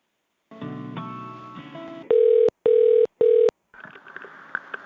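A telephone call being forwarded starts with a short burst of mixed electronic tones, then three loud, even ringing-tone bursts separated by gaps, followed by fainter line noise.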